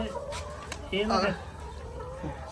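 Layer hens clucking on a farm, a brief burst of nearby clucking calls over a steady background hum, with faint voices under it.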